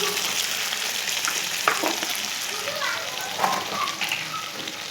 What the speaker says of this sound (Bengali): সামান্য একটু লবণ হলুদ দিয়ে আলু আর কচুটা ভালো করে ভেজে নিতে হবে